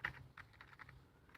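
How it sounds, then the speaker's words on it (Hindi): Computer keyboard keys, including the Enter key, tapped several times in quick succession, close and fairly faint, with no voices. "कीबोर्ड इंटर, फिर से इंटर"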